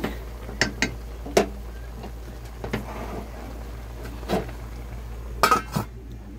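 Dishes and pots being washed after cooking, with scattered sharp clinks and clatters of metal and crockery, some clustered in quick bursts, close by over a faint steady background, no talking.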